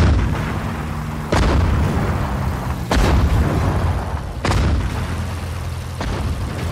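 Deep artillery gun shots from the Sudden Strike 4 video game, three heavy booms spaced about one and a half seconds apart over rumbling battlefield background.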